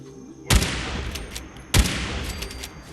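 Two loud, sharp rifle shots from a lever action rifle in Fallout 4, roughly a second apart, each booming and then trailing off into a long echoing decay, with no talking over them.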